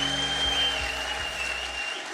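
Congregation clapping for the Lord at a church service led by Prophet Henok Girma, a steady wash of many hands that holds throughout before thinning toward the end.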